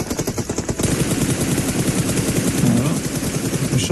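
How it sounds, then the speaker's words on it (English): Rapid bursts of gunfire in the battle royale game PUBG Mobile during a PMGC 2025 esports match, a dense rattling stream of shots that stays loud and steady from start to finish with no voices. "Shots over towards VP."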